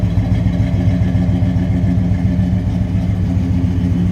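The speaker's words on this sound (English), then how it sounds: "Listen to that rumble. Now that's a good sounding car." A 1965 Pontiac GTO convertible's V8 engine idling close by, a deep, steady, pulsing low rumble that holds even throughout without revving, with no voices.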